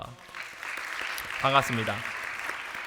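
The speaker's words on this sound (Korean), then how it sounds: "우리 큰 박수로 환영하겠습니다" A church congregation claps in welcome for new young members at a Korean Sunday youth service, a steady wash of applause filling the room while someone speaks briefly over it.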